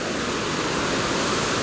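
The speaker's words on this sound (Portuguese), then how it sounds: "como está a força das águas aqui do Rio Sacramento" The flooded Sacramento River, a tributary of the Rio Doce, rushes near the Cachoeira da Fumaça waterfall in Minas Gerais as a steady, loud, dense roar of churning water that stays constant throughout.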